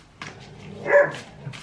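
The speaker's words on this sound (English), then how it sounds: "Can you hear that? It's my dog outside." A dog outdoors in the sun, playing and joining in, gives a few short barks and yips at moderate distance, with one louder bark in the middle and no talk over it.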